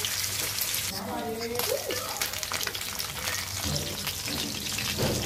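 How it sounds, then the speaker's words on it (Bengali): Tilapia pieces rubbed with turmeric, salt and chili powder fry in hot oil in a pan, a close, steady crackling sizzle like rain that runs throughout with no breaks. "কড়া করে মাছগুলো ভেজে নিব।"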